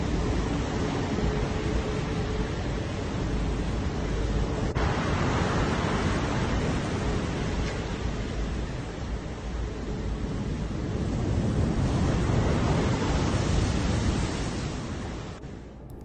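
Rough sea surf roars as a steady, loud broadband wash of breaking waves, swelling slightly toward the end with no voices heard.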